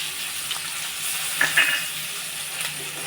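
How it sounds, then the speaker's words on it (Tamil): Onion sautéing in a pan with coriander seeds and urad dal, a steady faint sizzle and crackle running throughout with a few soft stirring clicks and taps, no talking. "பாதி வெங்காயம் வதங்கும் போது நம்ம மல்லி உளுந்து சேர்த்துக்கலாம்"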